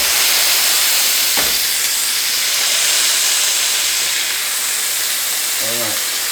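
A burger patty pressed onto a hot griddle for an Oklahoma fried onion burger gives a loud, constant steamy hiss and sizzle, close up, with a brief voice near the end.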